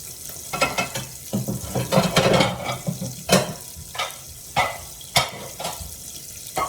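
Chopped onions fry in a hot pan with a steady close sizzle, broken by repeated sharp stirring scrapes and knocks at irregular intervals, no voices.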